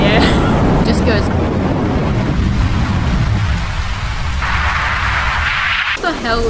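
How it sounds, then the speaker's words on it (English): Heavy rain sound effect playing in a game, a dense, loud, steady downpour hiss with low rumbling like distant thunder, while a voice talks over it throughout. "I need the rain sound effect"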